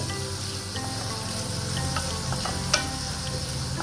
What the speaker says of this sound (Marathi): आता मी आपल्याला छान असं परतून घ्यायचंय कांदा